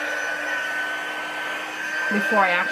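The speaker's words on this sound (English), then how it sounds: "I'm going to heat the heat tool up" A heat embossing tool warming up before use on vellum for a card, giving a steady close blowing whir like a hair dryer that holds level, then shifts in pitch briefly near the end.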